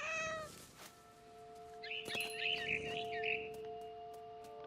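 A cat meows once in the video game What Remains of Edith Finch, then a longer, warbling yowl follows, with a faint steady electronic tone humming underneath.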